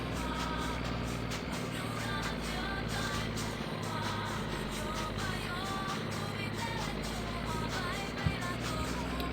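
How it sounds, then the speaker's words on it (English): Steady car engine drone in the driving game My Winter Car, a continuous low rumble at moderate level with faint higher whine, no clear speech. "The engine noises shouldn't be as loud anymore"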